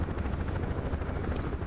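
A UH-1H Huey helicopter in the DCS World flight game drones with a loud steady rotor thump and engine whine, continuous and close, with no talk.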